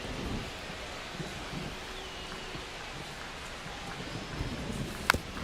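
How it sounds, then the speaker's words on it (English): Steady rain hiss over a ballpark in MLB The Show 25, broadband and continuous with a few faint low thumps and one brief sharp crack near the end, no voices. "This rain is not letting up."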